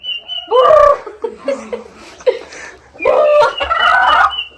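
A turkey gobbles in two strong, rattling bursts close to the listener. Softer clucks and fowl noises fill the gap between the bursts, with no speech heard.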